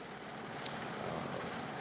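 The Nakajima 14-cylinder Sakae radial engine of an A6M5 Zero fighter runs, a faint, steady droning roar with a broad, even texture throughout.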